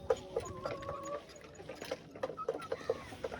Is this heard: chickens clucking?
yes